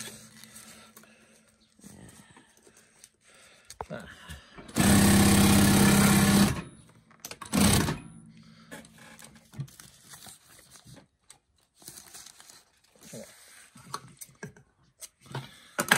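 A sewing machine stitches fabric bunting in one loud, steady buzzing run of about two seconds, followed by a shorter burst. Quiet handling noises and brief pauses surround the stitching.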